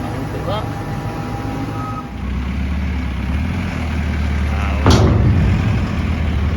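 A farm vehicle engine rumbles close by while it pushes a tipped trailer load, with a faint reversing beep early on and a loud rising surge of engine noise near the end.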